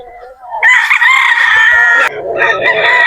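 A muff game fowl rooster crows loudly and close on a game farm, one long drawn-out call followed by softer clucking.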